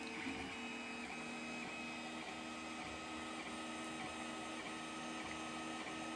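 A 3D printer printing a print-in-place toy car, giving a steady, continuous whirring hum with faint rhythmic motor pulses and stepping tones, close and unbroken, with no talk.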